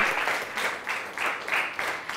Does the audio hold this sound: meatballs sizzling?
no